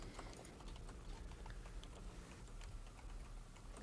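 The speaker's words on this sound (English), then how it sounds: "Who's typing furiously there?" Rapid keyboard clicking goes on continuously, quick irregular taps at a low level against a faint background hum.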